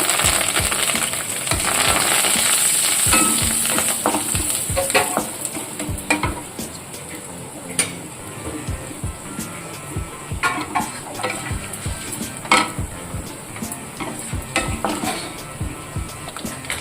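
Mustard seeds, chana dal, urad dal, cumin, turmeric and curry leaves sizzle and crackle in hot oil, a dense continuous frying hiss with scattered sharp pops and stirring clatter, loud and close with no talking.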